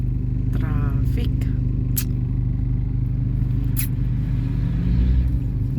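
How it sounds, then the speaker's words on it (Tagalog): Road traffic with cars passing on a Philippine road, a constant loud engine rumble and tire roar close by, with a few brief sharper passes, and people talking over it. "Traffic."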